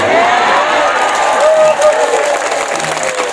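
Women in the audience of a live Islamic sermon at a school event break into dense, sustained clapping, loud and close, with crowd voices mixed in.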